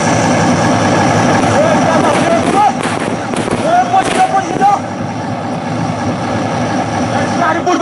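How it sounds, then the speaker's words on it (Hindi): During an NCC cadets' ambush drill, a covering party fires in several sharp bursts that crack loudly over a constant outdoor rumble, mixed with shouted voices. "कवरिंग पार्टी भारी मात्रा में फायर डालकर दुश्मन को बर्बाद करती है"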